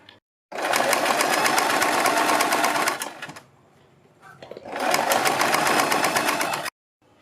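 A sewing machine runs in two loud, steady bursts while stitching a seam along a kurti neckline, with a short quieter pause between the runs.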